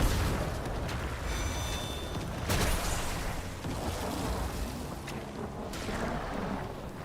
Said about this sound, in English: You gotta be careful with those explosions.